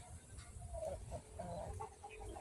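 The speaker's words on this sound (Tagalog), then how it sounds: "Ito naman hawak ko. Ito yung ano. Martin Scully na Black Boston" Black Boston rooster held in hand, giving a few soft, close clucks and throaty calls over low background rumble, with no speech.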